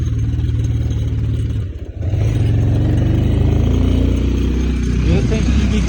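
A motorbike engine labors loudly uphill on the way to Bhairab Kunda, a close, steady drone that briefly dips and then strains harder, with wind buffeting and a rider's voice under it.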